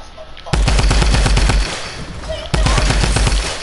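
Loud rapid video-game gunfire in long automatic bursts, with a brief pause partway through before the shooting starts again, close and dominant over a rumbling background.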